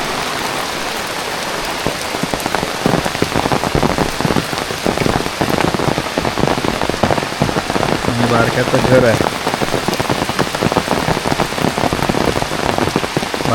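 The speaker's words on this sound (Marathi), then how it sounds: "बघा कसा पाऊस पडतोय, पावड्याला पाणी बघा कसं पडतंय, एकदम मस्त." Heavy monsoon rain pours steadily on a roadside in a green, tree-lined rural area, a dense, loud, continuous hiss of drops on surfaces from start to end, with a voice speaking briefly over it.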